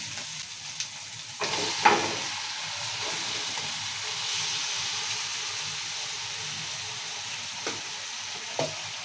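Chicken goes into oil with onion paste and ginger-garlic paste, a steady soft frying hiss, with a few sharp clinks of a utensil against the pot.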